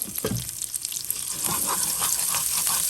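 Olive oil hits a hot pan for a shrimp cauliflower stir-fry and sizzles in a steady, close hiss with scattered light crackles, no voices over it.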